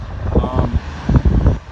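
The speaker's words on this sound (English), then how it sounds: "you can sit at the window and watch the planes take off" An airplane rumbles near an airport, a low steady engine drone heard beneath a man's close speech.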